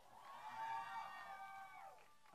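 Crowd at a live outdoor music festival concert cheering and whooping, a swell of distant voices rising and fading over a couple of seconds, faint and reverberant.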